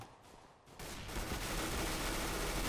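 Rapid automatic gunfire in the Counter-Strike: Global Offensive video game, loud and dense bursts sustained after a brief quieter lead-in, with no talk.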